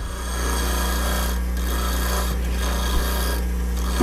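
A bench grinder sharpening a tool with very light contact, giving a steady hum and soft continuous rasping with faint swells, close by and without talk.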